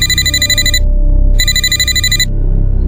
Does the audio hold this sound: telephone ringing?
yes